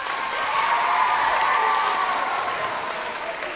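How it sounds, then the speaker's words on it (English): An audience claps and cheers lightly for a rescue dog performing sit and paw tricks, a sustained burst of crowd applause that swells and then slowly tapers. "Give her a clap!"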